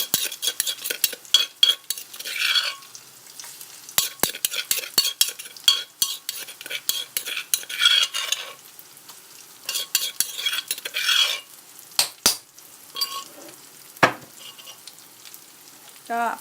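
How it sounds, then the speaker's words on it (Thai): Chili and garlic are stir-fried in a sizzling hot pan, with a spatula repeatedly scraping and clanking against the metal, close and busy throughout. "พอกระทะเริ่มร้อนได้ที่นะคะ แล้วก็ใส่พริกกระเทียมลงไปเลย"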